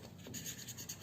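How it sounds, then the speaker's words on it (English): A pen writes on a handmade suncatcher card, giving a close, continuous scratchy scrawl with short strokes and small pauses, heard alone. "All you need to do is just use a pen and write."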